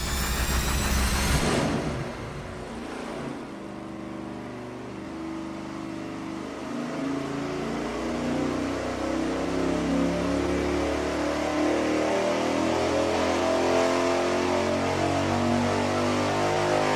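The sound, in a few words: 5.7 Hemi V8 with bigger cam revving on dyno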